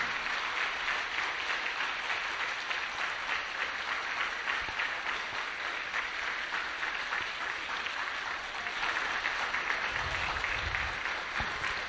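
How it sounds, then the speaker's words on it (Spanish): A church congregation applauds in sustained, dense clapping that fills the room at an even level for about twelve seconds, with faint low thumps near the end. "Palmas triunfales para el Divino Padre Jehová de los ejércitos."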